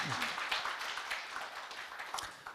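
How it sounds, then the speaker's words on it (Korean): An audience in a lecture hall applauding, a dense, even patter of many hands clapping at moderate volume for a couple of seconds, with a few sharper claps standing out. "박수 한번 보내주시기 바랍니다."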